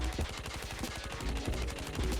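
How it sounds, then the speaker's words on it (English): Dingo light machine gun firing in Call of Duty Mobile, a very rapid, continuous burst of closely spaced gunshots, loud and punchy with no pause. "It is a super fast fire rate LMG"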